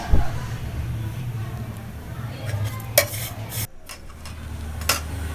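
Broken vermicelli frying in a pan with a soft sizzle, stirred with a utensil that scrapes and clinks against the metal a few times.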